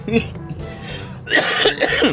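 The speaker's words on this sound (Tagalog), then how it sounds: "Inuubo talaga ako eh." A person coughs a couple of times at close range, with speech-like voice sounds mixed around the coughs.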